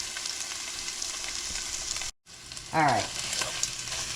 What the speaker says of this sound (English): So I got my sausage in here. It's 1 pound of sausage. I just want to get it to browning.